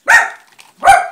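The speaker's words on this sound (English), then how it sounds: "of course you have to listen to my dogs bark because that's what they do" Two loud, close dog barks come about three-quarters of a second apart, each sharp and full, with near silence between them.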